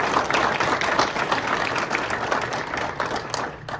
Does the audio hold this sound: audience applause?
yes